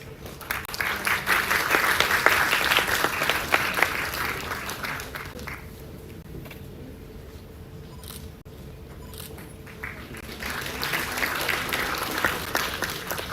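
A medical college audience at a day-two event claps loudly, fades to a quieter lull with scattered claps, then swells into strong applause again near the end.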